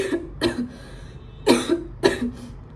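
A woman whose cough has worsened from dust while cleaning her room coughs in four sharp, close bursts, two early and two later, with quiet gaps between them.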